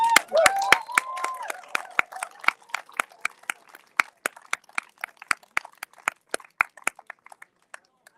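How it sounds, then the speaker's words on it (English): A small group at an outdoor rally claps in scattered, uneven bursts, with a voice cheering at the start; the claps thin out to a few sharp, isolated ones. "We have a round of applause for Cecilia."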